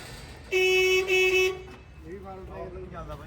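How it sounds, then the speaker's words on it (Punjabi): A Ford 3600 tractor horn gives two short, loud honks close by, followed by quieter talking and background engine noise. "ਹੌਰਨ ਹੌਰਨ ਵੱਜਦੇ ਆ"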